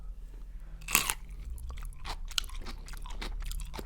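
A crisp bite into a cold-pickled cucumber gives one sharp crunch, followed by a few seconds of close, moist chewing and smaller crunches, with no talking.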